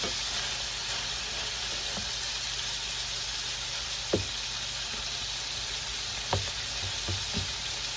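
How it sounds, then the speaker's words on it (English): Ground hamburger meat frying in a pan, a constant dense sizzle and crackle with a few soft scraping stirs popping out of the steady hiss, close and even throughout. "hamburger is cooking good"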